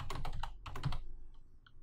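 Quick bursts of keystrokes on a computer keyboard while entering a search in Revit software, two close clusters of clicks followed by a couple of fainter taps, with no talking.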